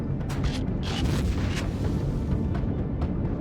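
Explosions blowing up a player's base in the video game Empyrion Galactic Survival, a rumbling series of low booms and blasts that hold at a steady, moderately loud level with no speech over them.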